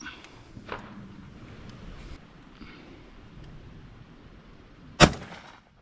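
A single shotgun blast on a pigeon decoying field, a sharp loud crack near the end after several seconds of wind buffeting and faint background noise.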